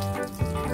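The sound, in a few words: fresh water running from sink tap in bus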